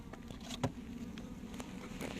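A steady, faint buzz of bees hums throughout, with a few soft ticks and taps breaking through the drone.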